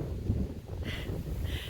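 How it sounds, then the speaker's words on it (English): Strong wind gusts across an outdoor garden, a steady low rumbling buffet against the microphone that swells and eases without a break. "That wind just won't let up"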